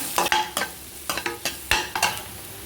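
Thin-sliced onions sizzle in a pan for egg pepper masala, with a spatula scraping and stirring in quick repeated strokes over a steady close frying hiss, no talk.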